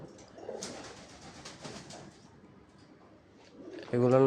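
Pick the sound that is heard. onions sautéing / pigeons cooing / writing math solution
pigeons cooing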